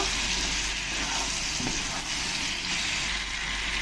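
Sliced capsicum frying with spices and potatoes, stirred in a pan, giving a steady, close broadband sizzle that holds throughout with a faint scrape of stirring near the middle.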